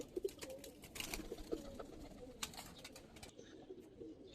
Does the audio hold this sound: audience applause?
no